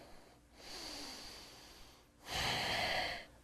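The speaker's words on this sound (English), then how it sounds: "One more breath." Slow, controlled breaths during a beginner yoga core session, with a long soft exhale followed by a louder, fuller breath through the nose, close and with no talking.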